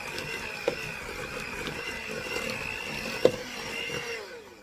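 Electric hand mixer beating an egg into lemon blueberry bundt cake batter in a bowl, a steady whirring drone with a couple of sharp clinks against the bowl.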